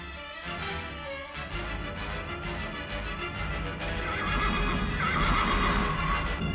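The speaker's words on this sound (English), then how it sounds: "I think you'll see the very horse you want for Master Robbie" A horse neighs loudly in a long, shrill whinny that rises in the middle, with the clip-clop of hooves beneath it.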